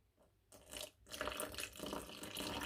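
Water pours in quiet, close splashing bursts into a well of flour for bread dough, a brief trickle then a steadier gurgling stream into a bowl.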